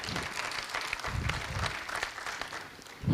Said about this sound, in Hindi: चलो एक बार जोरदार ताली बजा दो फिर